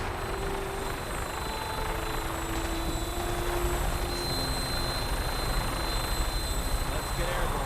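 A Vertibird aircraft from Fallout 4 lifting off: steady, loud rotor and engine roar filling the whole stretch, with a faint voice over the top.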